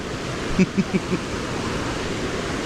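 A waterfall seen on a landscape photography outing gives a steady, close rushing roar throughout, with a few soft knocks or thumps near the start and no talking.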